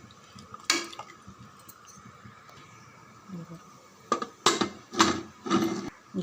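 A spoon stirs tomato dal sambar in a metal pot, scattered scraping and knocking clinks, one early and a quick cluster near the end, fairly close against a quiet kitchen background.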